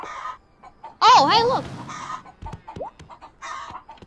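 Chickens in a video game give a few short clucking calls, heard among spoken exclamations and other game sounds.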